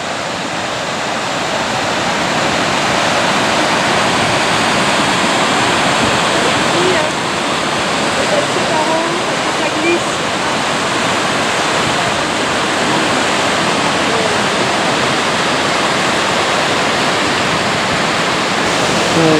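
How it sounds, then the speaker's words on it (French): Waterfall cascade beside a hiking trail on the GR 7 in Hérault, a loud, steady roar of rushing water that fills the whole stretch without letup. "Et puis cette cascade."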